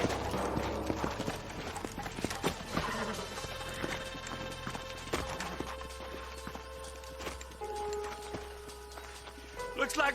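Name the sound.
horses galloping, from the video game Red Dead Redemption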